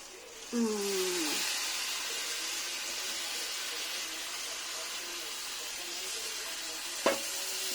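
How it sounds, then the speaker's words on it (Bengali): Rice and lentils sautéing with spices in a pot for khichuri, a steady close sizzle and hiss throughout, with a brief stir scrape near the start and a sharp knock of a utensil near the end. "এটাকে মশলার সঙ্গে সুন্দরভাবে কষিয়ে নেব"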